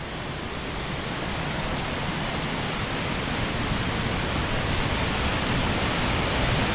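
Mae Pan waterfall in a Chiang Mai forest, a loud, steady roar of falling water with no breaks, filling the scene from start to finish.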